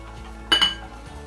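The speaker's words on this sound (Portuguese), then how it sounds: "Você vai pôr o açúcar na tigela." Crystal sugar is poured into a bowl for a lemon meringue pie, a short close clink and rattle against the bowl lasting a fraction of a second in an otherwise quiet kitchen.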